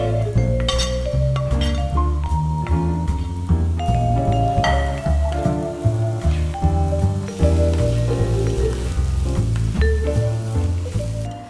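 Sliced mushrooms hit a pan of toasted leek and sizzle and crackle loudly up close, mixed with clinks and scraping of a utensil stirring, with music playing underneath.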